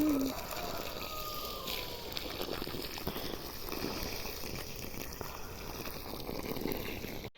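Water poured from a container onto a freshly sown dill bed in a dry garden, a steady close splashing and gurgling running the whole time with a brief voice at the start.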